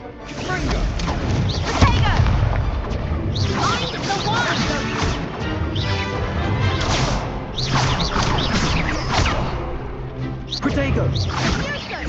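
Confringo fire spells burst repeatedly in Hogwarts Legacy, giving loud crashing blasts and swishing whooshes that come in waves, mixed with voices and other game sounds.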